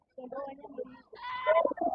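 Sheep bleat among goats on a livestock farm, several wavering bleats close by, one after another with short gaps, the later calls louder and more strained.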